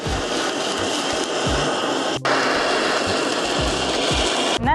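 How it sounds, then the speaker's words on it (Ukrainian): Kitchen gas torch caramelizing sushi rolls with a loud, close, continuous roaring hiss that breaks off briefly midway and then continues, with no talk. "Я зараз вмикаю горілку та починаю карамелізувати роли."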